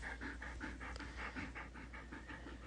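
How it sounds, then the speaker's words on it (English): A dog pants steadily and rhythmically close by, about a dozen quick breaths in a row, fairly quiet with no talking over it. "Sorry, that is the dog who probably needs to go outside again."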